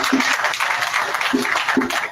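Audience applause at a political event, a loud, close burst of clapping from a gathered crowd, with brief vocal tones cutting through the clapping a few times.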